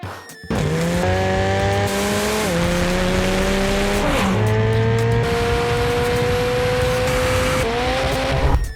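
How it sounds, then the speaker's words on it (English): McLaren 720S supercar with a 4.0-litre twin-turbo V8, loud sustained engine roar climbing in pitch through several gear shifts, alone without talk. "1. McLaren 720S."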